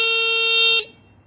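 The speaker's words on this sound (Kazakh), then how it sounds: "Беріп көрейік сигнал қандай екен" A Z2 Tibet motorcycle horn gives a single loud, steady electric honk lasting under a second, close up, then cuts off into quiet.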